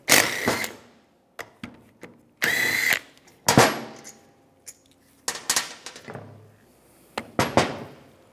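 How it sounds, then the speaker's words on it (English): A 14mm socket removing brake caliper bracket bolts on a 2011-2015 Chevrolet Cruze, a series of short bursts of tool rattling and metallic clinks separated by quiet gaps, close and loud. "Use a 14mm socket. Take these bolts out."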